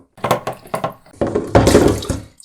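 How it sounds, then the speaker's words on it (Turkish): Water splashes and pours out in short bursts, then a longer gush, as the filter housing of a home water purifier is opened. The spilling is loud and close, with no voices. "Evet ikinci filtreyi açıyorum."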